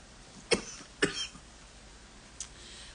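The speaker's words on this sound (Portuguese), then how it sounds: "Desculpe, tosse." Two sharp coughs close to the mic about half a second apart, followed by a fainter third cough after a pause.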